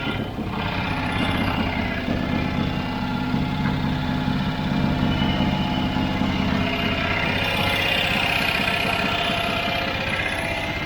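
Old barn-find Citroen three-wheeler engine idling steadily up close, a continuous low rumble with mechanical vibration throughout and no talk.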